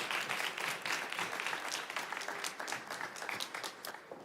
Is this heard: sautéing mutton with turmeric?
no